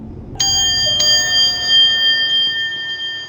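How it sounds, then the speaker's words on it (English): A hotel glass elevator announces its arrival with a bright bell chime, two quick ringing dings whose clear tones linger and slowly fade, loud and close. "I think we get to hear the dinner bell"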